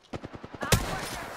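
Rapid gunfire in a video game, a quick string of shots followed by a loud close blast and a noisy rumbling tail.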